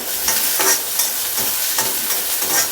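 Cumin seeds and onion being lightly roasted in a pan, a close crackling sizzle broken by rhythmic bursts of stirring, no voices.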